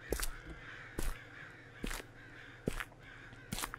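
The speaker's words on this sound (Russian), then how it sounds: "Птицы заебали." Crows in the horror video game Okaeri caw five times at roughly even intervals, sharp and fairly clear against a quiet ambient background with no speech.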